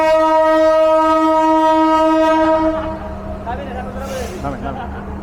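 At Kamalapur station in Dhaka, the Padma Express train sounds a loud, sustained horn for about two and a half seconds, followed by lower rolling rumble from the rail cars with voices nearby.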